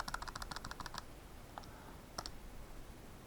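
Quick run of light plastic button taps, then a pause and a few more isolated presses, faint against a quiet hiss.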